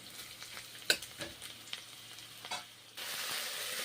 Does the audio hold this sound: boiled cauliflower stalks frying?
yes